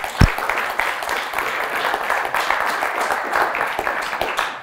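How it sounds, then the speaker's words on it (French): A dense, sustained round of audience applause during a French stage performance, many hands clapping at once at close range for the full length, with no speech over it. "Oui, vous pouvez l'applaudir."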